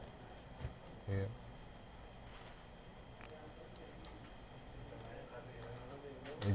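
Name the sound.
mouse clicking while drawing a profile in Civil 3D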